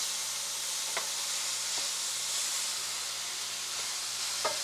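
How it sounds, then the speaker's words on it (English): Cabbage and beef stir-fry in a pan with a steady, close sizzling hiss, broken by a few faint clicks of a utensil scraping through the food. "It doesn't take very long for the cabbage to cook, just a few minutes."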